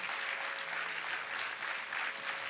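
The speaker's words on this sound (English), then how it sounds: "And one round of applause for them" Steady applause from a concert audience for an Indian music orchestra of violin, guitar, keyboard and mridangam, a soft even wash of clapping that holds without a break.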